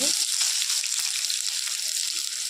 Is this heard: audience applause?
no